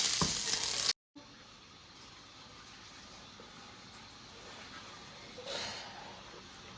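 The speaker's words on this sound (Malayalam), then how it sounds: "നെയ്യിലിങ്ങനെ ചോറ് വഴറ്റി കൊടുക്കുമ്പോൾ ഒരു പൊടിക്ക് മഞ്ഞൾപ്പൊടിയൊക്കെ ഇട്ടിട്ട്" Rice and egg fry in ghee with a steady soft sizzle and occasional stirring scrapes, close and fairly quiet, after a brief louder burst that drops out at the start.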